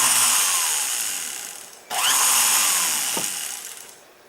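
Small rotary drill boring holes in soldered metal plates for opal earrings, a loud high whine that runs down, stops briefly, then spins up again and winds down.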